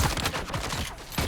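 A heavy gunner lets off rapid bursts of automatic fire in Dune: Awakening, the shots loud, close and irregular across a short stretch of steady combat noise.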